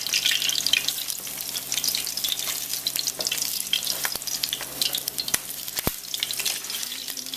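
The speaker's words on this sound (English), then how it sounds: "it's frying up very nicely." Vietnamese bologna (cha lua) sizzles and crackles loudly in very hot oil, a dense continuous frying hiss with scattered sharp pops.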